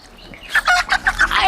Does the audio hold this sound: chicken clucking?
yes